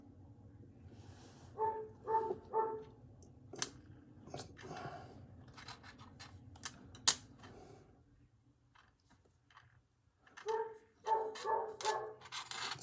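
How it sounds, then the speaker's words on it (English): A dog barks in short clusters at a distance. The clusters are separated by quiet gaps and are mixed with light clicks and taps close by. "Sorry if you hear a dog barking."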